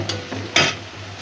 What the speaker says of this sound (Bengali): চিংড়ি মাছটা আর পেঁয়াজটা তেলে সুন্দর করে ভাজা ভাজা করে নেবো